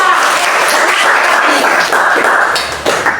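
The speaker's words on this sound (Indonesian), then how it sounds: "Tepuk tangan untuk Alia." Classroom applause for a student: loud, close, continuous clapping from a group of children filling the room, with a few heavier taps and thumps near the end as it begins to fade.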